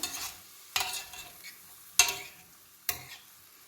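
Onions are sautéed in a pan, with a faint continuous sizzle broken by four distinct sharp stirring scrapes and clacks spaced about a second apart.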